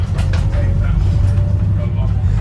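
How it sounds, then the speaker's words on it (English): A Volvo B5TL Wright Gemini London bus drones with a loud, steady low engine rumble from inside the cabin, with faint rattles and murmuring voices over it. "This bus is actually so fucking rattly."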